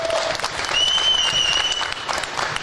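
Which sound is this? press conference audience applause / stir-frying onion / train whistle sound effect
press conference audience applause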